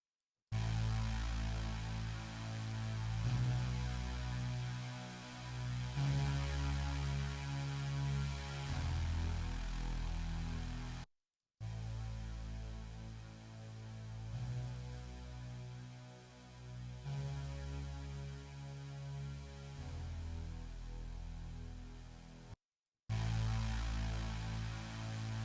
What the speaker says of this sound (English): let's listen to what the distortion is adding to the sound